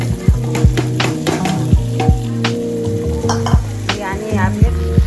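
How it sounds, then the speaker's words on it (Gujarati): Vegetables and washed rice for khichdi stirred in a hot pan, loud sizzling with a run of sharp scraping and clanking strokes of the spoon against the pan, close and continuous. "આને આપણે ઘડીક માટે હલાવી સરસ મજાનું ગબડાવવાનું છે."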